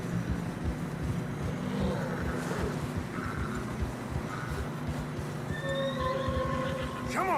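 Horses in Red Dead Redemption 2 whinny while trudging through deep fresh snow on a narrow path, with a rising neigh near the end over a steady low background rumble.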